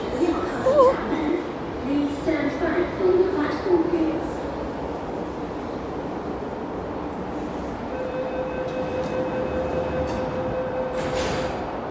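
MTR train at Tai Shui Hang Station in Hong Kong, a steady rumble of the train with a sustained tonal whine later on, while a voice talks over the first few seconds.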